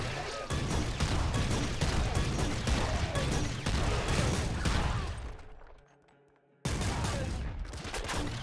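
Rapid, dense explosive firing from an auto mortar in the roguelike game Nuclear Throne, loud and continuous for about five seconds, a brief near-silent gap, then the barrage resumes.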